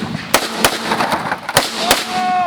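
Four sharp, close gunshots crack out at uneven intervals, fired at targets such as a muffler, brick and wood on a farm.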